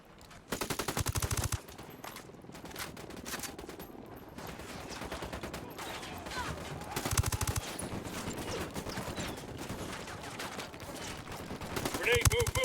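Rapid automatic gunfire in the tactical shooter Ghost Recon Wildlands, with sustained bursts of shots and some louder, heavier volleys amid the game's combat noise.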